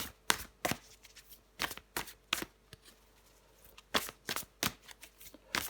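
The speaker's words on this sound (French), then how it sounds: "Allez, je prends encore une carte." Tarot cards are shuffled and drawn in close, crisp bursts of riffling and flicking that arrive in several quick clusters separated by short pauses, with no talking.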